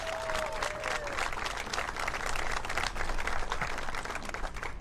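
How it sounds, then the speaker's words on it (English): Crowd applause at the 2021 Wisconsin State Fair opening ceremony in West Allis, a sustained roar of many people clapping with some cheering, loud and continuous, a voice briefly audible at the start. "Let's give our staff a big round of applause."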